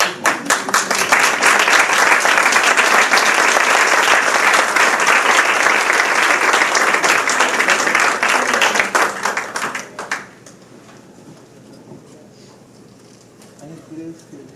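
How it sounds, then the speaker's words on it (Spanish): An audience at a book presentation in Lima, Peru bursts into loud, sustained applause lasting about ten seconds, then fades out to quiet room noise with faint voices. "Primero un aplauso."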